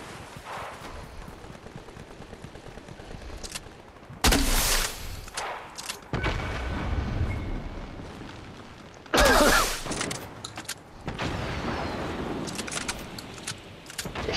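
Bursts of gunfire in a battle royale video game, with two loud, dense volleys standing out and smaller shots between them, close and sharp over a continuous game background.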